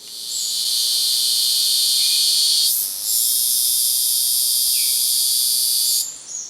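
A male Guyana cicada calls in the Antilles, a loud, piercing, continuous drone filling the air, briefly dipping about halfway through before surging back.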